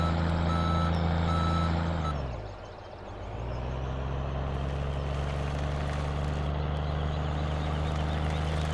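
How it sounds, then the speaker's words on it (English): A truck in the Farming Simulator 17 video game reverses with steady repeated beeps over a loud droning engine; the engine note dips briefly and then resumes, with no talk. "We'll back up here and switch trucks."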